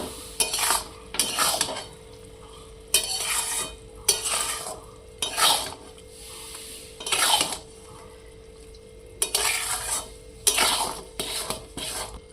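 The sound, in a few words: jujube pickle with jaggery cooking in a pan on low heat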